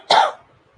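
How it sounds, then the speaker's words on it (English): One short, sharp human cough, close and loud, fading quickly into near silence. "sorry for my cough"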